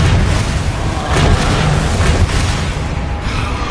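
Confringo blasting curse in the Hogwarts Legacy video game: loud rumbling explosive booms rolling continuously in a dense, noisy battle mix, with bursts swelling near the middle.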